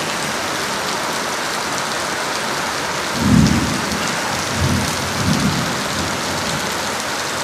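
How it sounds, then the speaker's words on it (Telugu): Steady heavy rain pouring outside a porch, a dense continuous hiss, with low thunder rumbles rolling in around the middle of the clip, one stronger and two softer. "అర్థమవుతుందా వర్షం?"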